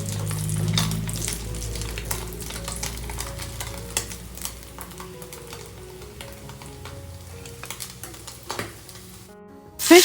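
Fish frying in hot oil until crispy for a South Indian fish fry, a steady close sizzle with scattered crackles and occasional utensil clinks, ending in a sharp louder clatter.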